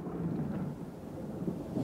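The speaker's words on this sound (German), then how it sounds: "brüllender Donnerschlag ganz nahe, denn das Gewitter war nun direkt über dem Weiher." A thunderclap sound effect in a read-aloud story of a lonely frog at a pond as a thunderstorm passes directly overhead: a low, steady rolling rumble of moderate loudness, with no voices over it.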